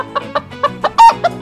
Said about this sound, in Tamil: கோழியின் சத்தம் கேட்டு